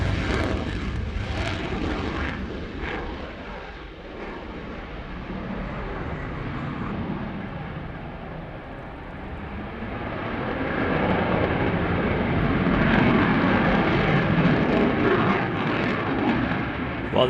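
Belgian Air Component F-16 fighter jet displaying at the Royal International Air Tattoo, a loud rushing jet roar that dips slightly mid-pass and swells again toward the end, sustained with no talk over it.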